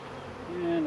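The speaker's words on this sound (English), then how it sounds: "I'm probably setting it on a couple of bees down in the bottom" Honey bees from a new package buzz while being hived in spring, a steady close drone with a rising whine that grows louder near the end.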